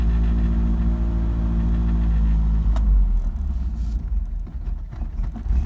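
A Mercedes-Benz 190SL engine with the choke in is revved once on the gas pedal, a loud, close, steady low rumble that surges and then settles into a rougher, uneven idle.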